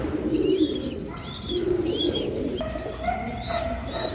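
Racing pigeons on a farm coo in repeated soft, throaty phrases, fairly close, with a few higher chirps from other birds mixed in.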